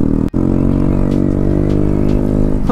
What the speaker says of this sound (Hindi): बाकी थोड़ा सा एग्जॉस्ट का साउंड सुना देते हैं आपको